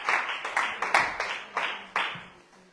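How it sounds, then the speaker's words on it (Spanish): A church congregation claps in a steady, lively rhythm of sharp bursts, each followed by a quick decay, with no talking over it. "Aplauda al Rey, póngase contento"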